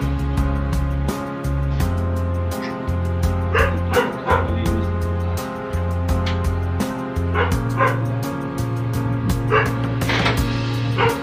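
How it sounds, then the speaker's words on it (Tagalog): A puppy yips and barks in quick, repeated high bursts over a steady low drone, loud and close throughout. "Apakan talaga itong tuta na to."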